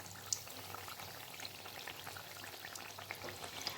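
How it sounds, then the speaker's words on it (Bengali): Malpua batter sizzling in hot oil in a pan, a steady soft crackle with scattered pops and spits, faint and close, with no talking. "আমার মালপোয়ার দুটো পাশই খুব ভালো মতন ভাজা হয়ে গেছে"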